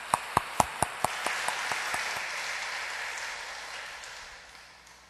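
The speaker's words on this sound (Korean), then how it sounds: "우리 나오실 때 큰 박수로 환영하도록 하겠습니다." A church congregation at a Wednesday service gives the preacher a welcoming round of applause, opening with a few sharp, distinct claps that blend into a broad wash of clapping and fade away.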